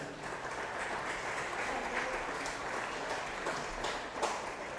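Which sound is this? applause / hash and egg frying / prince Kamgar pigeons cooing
applause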